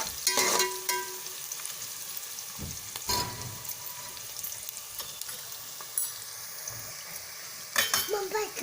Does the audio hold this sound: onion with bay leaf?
yes